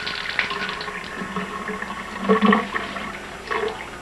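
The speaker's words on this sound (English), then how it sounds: "we're going to cut this water off" Water rushes from a bathtub shower valve as it is being shut off, a steady hissing flow with gurgling surges toward the end, close and moderately loud, with no voices.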